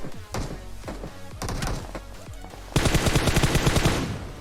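M4 rifle gunfire in a PUBG Mobile match, with rapid bursts of close shots crackling in uneven volleys before a loud, dense string of automatic fire takes over the final seconds.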